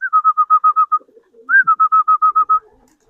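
Racing pigeons at their loft give two close, loud bursts of rapid, evenly spaced cooing pulses, separated by a short pause with faint rustling.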